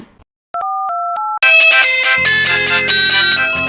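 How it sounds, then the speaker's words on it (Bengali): A few short electronic beeps give way to a loud, steady phone ringtone melody that keeps playing to the end. "এই সময় আবার কে ফোন করলো"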